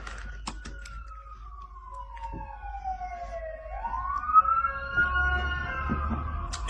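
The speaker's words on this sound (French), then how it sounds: "On a les ambulances qui vont passer." An ambulance siren wails along a street in the United States, one long tone sliding down and then rising again, fairly distant, with faint tapping underneath.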